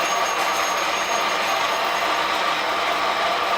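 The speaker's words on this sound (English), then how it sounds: "Let's grind this and see what it smells like." A coffee grinder running continuously, crushing coffee beans in a loud, dense, steady whir and rattle that is close and alone.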